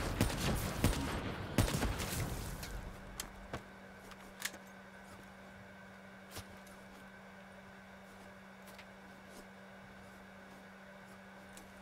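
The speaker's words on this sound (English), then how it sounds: "Who the heck is shooting at me?" Gunfire in Call of Duty Black Ops 3, a dense burst of rapid shots up front that breaks off into scattered single cracks over a quiet, humming background.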